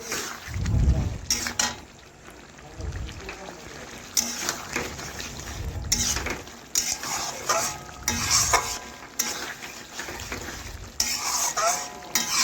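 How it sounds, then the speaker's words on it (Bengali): Chicken being stirred in a wok to dry off its water, repeated scraping strokes of a spatula against metal over a low sizzle, close and uneven in rhythm. "এই দেখুন এইভাবে নাড়াচাড়া করতে করতে কিন্তু জলটা শুকিয়ে যাবে।"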